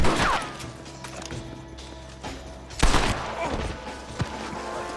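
Gunfire during a Red Dead Redemption shootout: several sharp, loud shots spaced irregularly over a quieter background, with a voice speaking between them.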